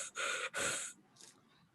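Breathing picked up right against the microphone: two loud, rough breaths close together, then a softer, shorter one, with no speech.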